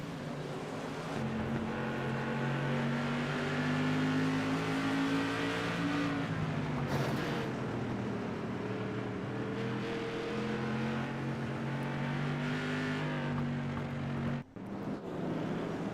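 Super Late Model-style SK modified race cars circle a short oval under a caution flag at an evening race, with a steady, loud engine drone whose pitch wavers gently as the pack rolls around at reduced speed.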